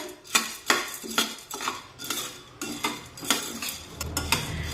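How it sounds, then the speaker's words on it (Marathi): Fried gram dal dry roasting in a kadhai over a low flame, stirred with a spoon: a rhythmic series of scraping, rattling strokes about every half second, close and clear, no talking. "आणि आता गॅसची फ्लेम मंद ठेवूया आणि ही डाळ हलकीशी भाजून घेऊया"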